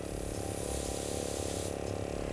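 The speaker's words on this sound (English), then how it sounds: "just listen to the sound of your airbrush" An airbrush sprays water in a steady, close hiss, with a brief change in tone near the end. Nobody speaks over it.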